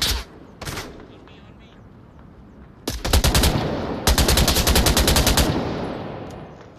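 Gunfire rings out in the virtual reality shooter Onward VR. A couple of early single shots are followed by two loud, rapid bursts of automatic fire, close and sustained, with faint chatter around them.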